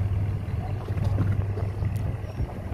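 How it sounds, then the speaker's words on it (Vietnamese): Fishing boats pull out of a Vietnamese harbour for the open sea. A steady, low engine drone carries on without a break, with wind buffeting the microphone the whole time. "Đây tàu biển nè các bạn ơi, giờ đang xuất bến ra khơi."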